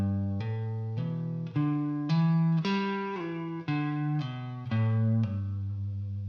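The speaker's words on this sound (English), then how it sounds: "So this is what I do when I want to practice my hammer-ons, pull-offs, and slides." An electric guitar plays a steady legato run of single notes with hammer-ons, pull-offs and slides moving between fretboard positions, clear and close with an effects-processed tone and no talking.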